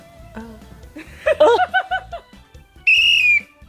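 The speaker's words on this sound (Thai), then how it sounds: "เสียงนกหวีดเด้อ" A shrill whistle blast rings out alone near the end, after a moment of chuckling and laughter.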